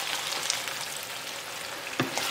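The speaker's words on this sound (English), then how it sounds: "Now I'm going to add some water." Ground beef cooking in a pot hisses and sizzles after water is poured in, a soft continuous crackle with a few sharper pops, fairly quiet and without talk.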